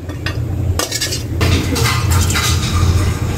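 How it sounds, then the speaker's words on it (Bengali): A metal spoon stirs curry in a pot just after garlic paste goes in, with repeated scraping and clinking strokes against the pot over a low, steady sizzle. "একটু নাড়াচাড়া দিয়ে রসুন বাটাটা দিয়ে দিলাম।"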